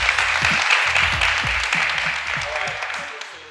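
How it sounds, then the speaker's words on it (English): Applause from a small group of choreographers, a dense wash of clapping that holds steady and slowly fades, with voices calling out and chattering over it. "so clap it up."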